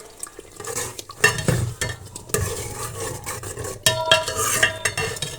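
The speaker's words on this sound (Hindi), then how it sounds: "आलू हमने भूनने, और आलू थोड़ी देर भूनने के बाद हम लोग मटर ऐड कर देंगे इसके अंदर।" Potatoes frying in a pan while a spoon stirs and scrapes, with repeated clanks against metal over a continuous sizzle, close and loud, no talk.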